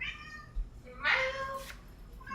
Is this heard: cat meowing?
yes